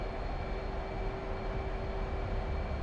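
F/A-18 Hornet jet engine roaring at full afterburner during takeoff in the DCS flight simulator, a loud, steady, dense rumble with a thin high whine running throughout.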